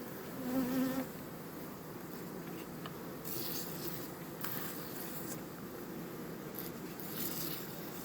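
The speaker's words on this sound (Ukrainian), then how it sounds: "Як сидить з боку бджола, також пару капель на них даємо" Honey bees hum steadily at a hive in a dense, continuous buzz close by, with a few soft bumps and rustles along the way.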